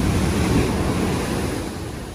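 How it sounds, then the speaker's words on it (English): Storm-driven ocean surf on a Hawaii beach at night: a continuous loud roar of crashing waves mixed with wind buffeting the microphone, steady and unbroken with no voices. "I came out here to see the waves."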